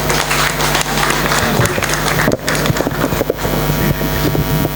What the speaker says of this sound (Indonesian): kembali dong tepuk tangan ini buat Insinyur Wahyudi